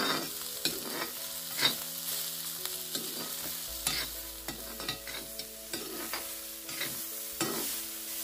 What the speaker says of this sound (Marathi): मीठ टाकल्यावर 1 ते 2 मिनटं आपण जरा भाजी व्यवस्थित परतून घेऊया